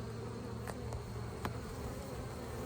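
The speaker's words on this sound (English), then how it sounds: "So these bees don't like me, though." Honeybees buzzing around hive frames being lifted from a hive, a soft continuous drone of many insects with a few brief louder passes nearby.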